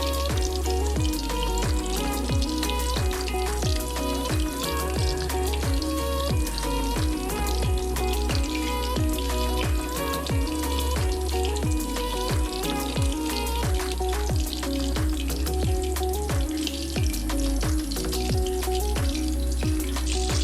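Chicken pakora frying in hot oil over a medium flame, a steady close crackling sizzle with dense popping bubbles that runs continuously and evenly throughout, with no voices.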